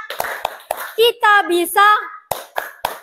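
Children in a classroom perform the rhythmic 'tepuk semangat' clapping chant: sharp, close hand claps in a patterned sequence alternate with sung chanted phrases, clear and loud.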